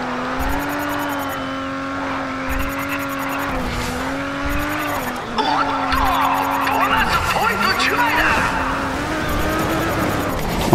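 A car in the racing video game Race Driver Grid drifts through an offroad drift event, its engine droning and rising in pitch while loud tire squeals cut in and out.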